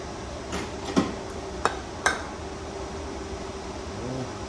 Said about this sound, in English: Let me get my wrench here.